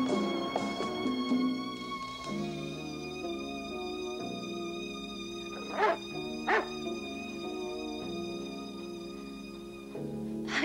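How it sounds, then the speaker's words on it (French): A dog in a 1982 French film scene yelps and whimpers in short, high cries, with a few sharper barks near the middle, heard over a sustained tonal musical score. "Ah, ce chien, c'est une affaire."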